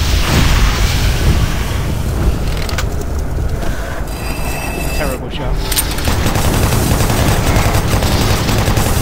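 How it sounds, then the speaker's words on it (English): Sustained rapid chain cannon fire from the Doom 3 video game, a dense continuous mechanical roar with rattling rhythm, loud and close throughout with brief metallic shifts midway. "quite like a chain cannon, is that?"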